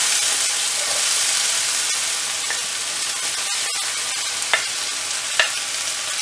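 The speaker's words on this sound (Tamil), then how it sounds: "கடுகு பொரிஞ்ச உடனே வெங்காயம் ஆட் பண்ணிடலாம்" Onions frying with popped mustard seeds in a pan, a dense continuous hiss of sizzling oil with a few light stirring taps, close and alone without speech.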